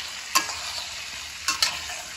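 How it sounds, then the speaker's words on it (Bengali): Cut potatoes frying with turmeric and salt in a pan: a steady hiss of hot oil with a few quick scraping stirs close by, and no talking. "আমি কেটে রাখা আলুগুলো ভেজে নেব।"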